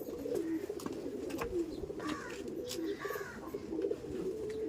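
Black pigeons coo softly and repeatedly in low, rolling calls, with a few faint clicks and rustles around them.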